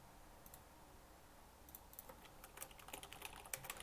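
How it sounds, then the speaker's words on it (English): Quiet clicking of computer keyboard keys while coding, sparse taps at first, then quicker, denser typing bursts toward the end, close and soft with no talk. "Let's start typing character transform."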